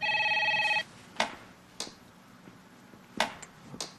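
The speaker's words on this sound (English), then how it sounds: "You can start by answering the phone." Telephone ringing in an office, one electronic ring burst at the start, followed by a few sharp clicks and knocks.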